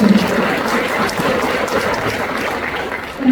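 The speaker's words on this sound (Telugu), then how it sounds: "వాళ్ళందరికీ చప్పట్లు కొట్టాలని నేను రిక్వెస్ట్ చేస్తున్నాను" A youth fellowship congregation at a church gathering breaks into steady applause, a dense wash of many hands clapping throughout, fairly loud and continuous.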